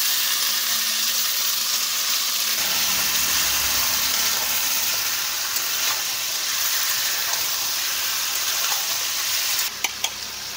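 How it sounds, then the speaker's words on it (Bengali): Chicken pieces and browned onions frying in a pan, a steady broadband sizzle running throughout, close and fairly loud, with a few sharp utensil clicks near the end. "এই পেঁয়াজগুলো লাল লাল হয়ে গেছে, চিকেনটা দিয়ে দেবো, তাহলে চিকেনটা ভাজা ভাজা হয়ে যাবে"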